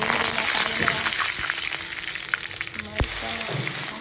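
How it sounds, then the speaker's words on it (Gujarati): Mustard seeds frying in hot oil for a corn chevdo, a close continuous sizzle and crackle with a few sharp spoon or pan knocks, no talking. "તેલ ગરમ થયા બાદ તેમાં રાઈ ઉમેરીશું"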